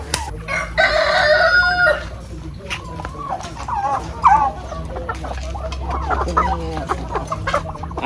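Black Australorp chickens in a poultry farm: a rooster crows loudly near the start, followed by hens clucking and calling nearby, with faint voices and farmyard noise in the background.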